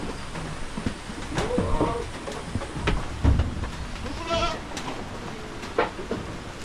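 Goats bleating near a farm hut in cold weather, with a few short, wavering calls rising above a constant noisy, rustling background.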